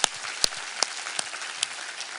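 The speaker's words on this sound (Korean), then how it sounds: "우리 하나님께 감사와 영광의 박수 올려드리겠습니다" Church congregation applauding during a Sunday worship service, a dense, soft patter of many hands with a few sharper claps standing out, steady and fairly quiet throughout.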